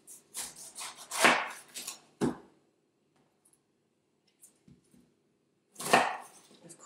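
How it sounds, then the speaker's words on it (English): Several sharp knife chops on a cutting board, cutting the outer parts off a pineapple, in a quick cluster, a pause, then another heavy chop, close up with no talking. "Of course, chopping off the outer parts."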